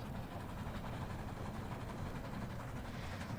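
A train rumbles along steadily in the Roblox game Dead Rails, a low continuous rolling drone that stays fairly quiet with no voices.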